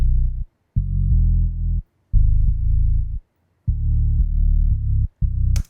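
Deep synth bass preset with an octave-up saw wave layered on top, playing a run of sustained low notes separated by brief gaps, loud and alone.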